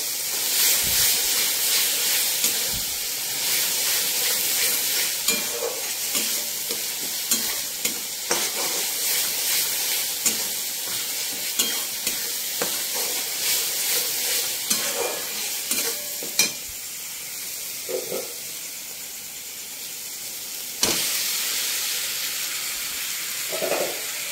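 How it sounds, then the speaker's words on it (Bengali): Meat fries with spice masala in a pan, a steady close sizzle broken by repeated scraping stirs and occasional utensil knocks, with no voices. "ভালো করে কষিয়ে নেব মাংসটা।"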